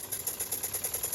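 A small steam engine driving a phone charger through spring belts runs down after shutdown, giving a fast, even, soft mechanical chuffing and ticking that stays faint and steady.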